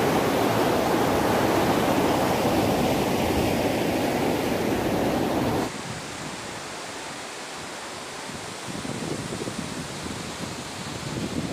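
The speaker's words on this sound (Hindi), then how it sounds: "ये देखिए यहाँ से बहता हुआ पानी है" A river flows through Harsil valley in Uttarakhand with a constant broadband rush of water, loud and close. It drops suddenly to a softer, more distant rush partway through and then swells slightly again.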